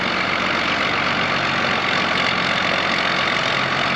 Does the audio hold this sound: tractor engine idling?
yes